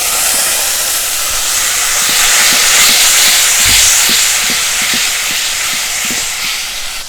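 Water splashed into a hot pan of turmeric, chili powder and salt with kashaa-cooked jackfruit and egg, hissing in a loud, steady, broadband sizzle that swells and then eases off over several seconds, with no talking.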